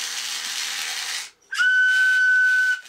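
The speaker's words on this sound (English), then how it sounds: "Let's try no fingers on the whistle. So it's even higher yet." A single high, pure tone from a compact Helmholtz-resonator toy whistle played with no fingers holds steadily for about a second, preceded by a breathy, airy hiss with no clear pitch.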